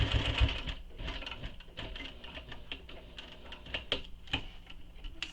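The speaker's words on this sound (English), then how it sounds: "We're going to stitch this all together using the seam allowance given in the pattern." A sewing machine stitches the seams of a convertible bag, a rapid mechanical patter of needle strokes in short bursts and pauses, close and moderately loud.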